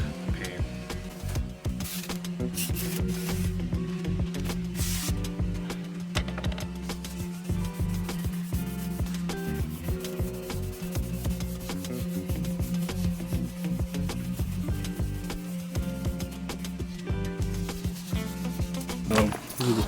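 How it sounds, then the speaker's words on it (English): 2000-grit sandpaper is worked by hand over wet car paint on a Celica's TRD wing, making a continuous close rubbing and scrubbing that comes in repeated strokes, with a steady low hum underneath. "I'm gonna start by hand just to see how quickly it gets through this"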